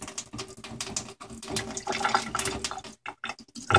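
A warm-water tap runs as an object is rinsed under the faucet to wash off salt, a close, uneven splashing and trickling with brief pauses and small drips.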